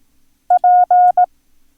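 Morse code tones for the letter P: a clear, loud electronic tone keyed short, long, long, short, alone against silence.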